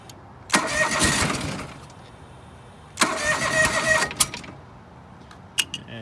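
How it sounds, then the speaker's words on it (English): A John Deere 445 lawn tractor engine, running on one cylinder, cranks and sputters in two rough bursts of about a second each, with mechanical clatter and quieter pauses between them. "So it should run like the other one did right now when it was on one cylinder."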